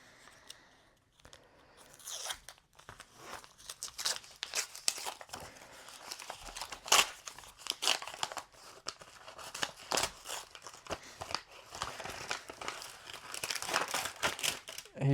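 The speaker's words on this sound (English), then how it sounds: "You guys are probably not impressed with the way the envelope was opened" A paper envelope holding an American Express Business Platinum card is torn open by hand, with steady crinkling, ripping and rustling, fairly close and quiet, and no talk.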